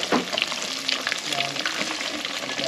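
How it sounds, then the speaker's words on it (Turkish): Fish frying in hot oil in a Wayuu home kitchen, in the same oil just used for bananas: a steady, dense crackling sizzle with scattered pops, close and fairly loud throughout, with no talk. "balığı kızartıyor şimdi"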